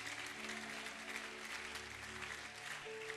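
A church congregation claps and applauds in a steady, dense wash of sound, moderately loud and without talk over it.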